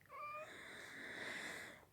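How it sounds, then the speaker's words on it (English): A house cat meows once, a drawn-out, rising-and-falling call that carries close and clear and fills most of the short clip on its own. "My cat wants to say hello too"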